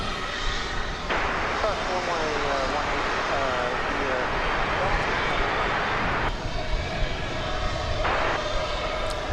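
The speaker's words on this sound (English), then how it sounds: "here's the big Dreamliner, Flight 192, Dreamliner-9, poised for its long flight to Istanbul" A Boeing 787-9 Dreamliner bound for Istanbul sits at DFW Airport, its steady broadband jet engine roar running throughout, with a faint voice talking intermittently over the continuous noise.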